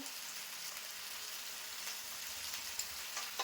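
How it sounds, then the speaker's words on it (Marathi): Turmeric, salt and Malvani masala sauté in a pan with a soft, continuous sizzle and occasional faint stirring scrapes, heard alone and fairly quiet. "आणि या थोडासा मी मालवणी मसाला पण टाकते आपला घरातला आणि व्यवस्थित असं परतून घेते"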